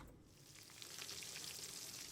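Fish frying in a pan in a home kitchen, a faint, soft sizzle that swells slightly after the first moments and then continues evenly.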